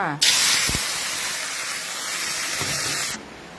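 Water mimosa stir-frying with oyster sauce in a hot pan gives a sudden loud sizzle that holds steady as a broad hiss and then cuts off, with a faint thump of cookware near the start.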